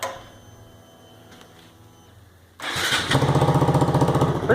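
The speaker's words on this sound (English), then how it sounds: "I'm going to fire it up so you can hear it." Honda Grom motorcycle with a titanium exhaust and baffle fitted, cranking briefly and then catching into a steady, close, throbbing idle after a quiet stretch.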